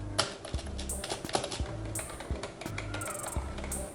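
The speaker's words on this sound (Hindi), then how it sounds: "इस कीबोर्ड की जो क्लिक की आवाज़ है वो मैकेनिकल कीबोर्ड से कम है" Keys clatter on a Redragon K512 Shiva RGB membrane gaming keyboard in quick, uneven bursts of soft clicks, typed close by with no one talking.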